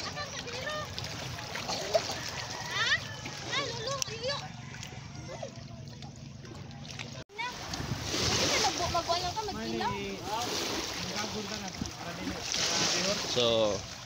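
A passenger boat heads across the sea to Ginlubngan Island near Masbate, its engine droning with water splashing and wind rushing past, while people talk loudly over the noise throughout.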